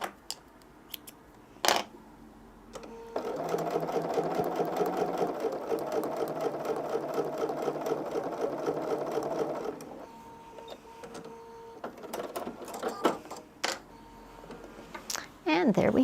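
Sewing machine stitching a Christmas quilt, a steady whirring run of several seconds framed by clicks and handling noises, with a voice speaking before and after.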